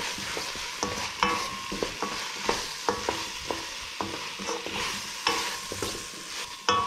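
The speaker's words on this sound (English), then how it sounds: "the onions are sauteed nicely, the potatoes are still quite firm" Onions and potatoes sauté with chili powder in a pan for a vegetable biryani, with a loud steady sizzle broken by regular scraping stirs and a brief spoken word.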